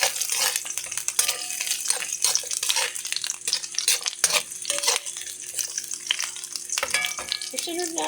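A mussel dish is stirred in a hot pan, a busy mix of sizzling, wet sloshing and utensil scrapes near the microphone, continuous with irregular bursts of clatter.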